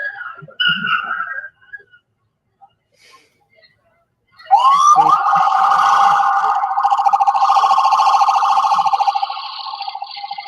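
An ambulance siren wails loud and steady in street news footage of a vehicle attack on Bourbon Street, sounding continuously for about six seconds after a brief earlier burst and a quiet gap.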